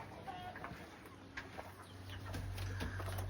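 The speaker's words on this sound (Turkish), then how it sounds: "Evet tavuklarımız gördüğünüz gibi bizleri karşılıyorlar" Chickens and roosters in a coop on a poultry farm, scattered soft clucks and short calls near and far, quiet overall, with a low hum building toward the end.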